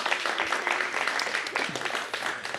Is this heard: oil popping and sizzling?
no